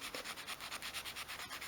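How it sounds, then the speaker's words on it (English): Light, rhythmic sanding of a small wooden handle against sandpaper, about a dozen soft, even strokes in quick succession, close and quiet. "and just sanding really gently along there."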